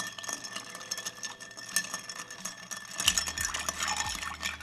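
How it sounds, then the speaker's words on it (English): A spoon stirs a thick orgeat cocktail in a mixing glass, giving a faint, close, continuous swirl of ice clinking and rattling that grows slightly busier halfway through. "Let's go ahead and give this a nice little generous stir in this case here"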